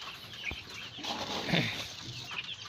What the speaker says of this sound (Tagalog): Ito naman yung aking mga manok na pasaway.